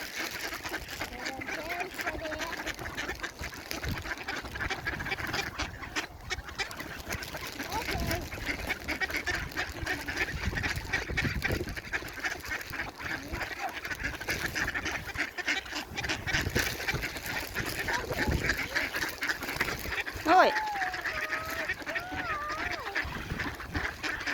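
Ducks quacking and honking around someone feeding them bread by the water, scattered calls repeating over the whole stretch at moderate distance, with faint voices talking now and then.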